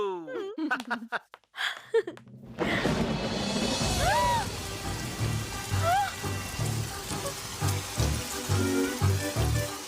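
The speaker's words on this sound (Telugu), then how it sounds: "వర్షం వస్తోంది" Rain patters steadily on a surface while people talk, with music and other sounds mixed over the downpour.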